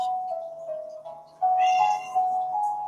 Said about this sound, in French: Ah, ça c'est mon chat.